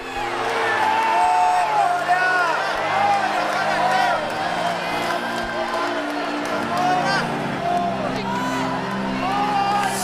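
A church congregation applauds and whoops under a preacher's loud, sustained speaking, the clapping and cheering forming a steady crowd bed.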